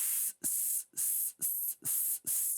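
A voice imitates a drawn-out S hiss, repeated six times in steady bursts about half a second apart, close and loud with short gaps between.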